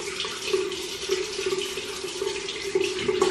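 A bathroom tap runs steadily into a sink during a morning skincare routine, a continuous close hiss and splash of water with faint irregular spatter and no voices.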